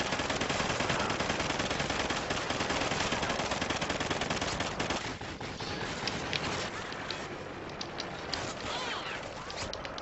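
Rapid automatic gunfire in the Call of Duty Ghosts video game, dense and loud bursts of shots filling the first half, then continuing more sparsely under background game noise.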